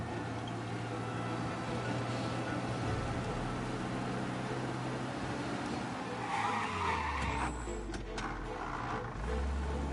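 A car races through the Mafia video game, its engine droning steadily before the tires skid and squeal loudly partway through as it slows and turns.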